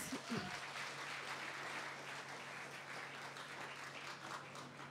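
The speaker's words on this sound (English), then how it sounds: "Please, a round of applause to the two teams." An audience applauds two debate teams at a school debate, a steady wash of many hands clapping. It sounds somewhat distant and fairly quiet, with a brief voice at the very start.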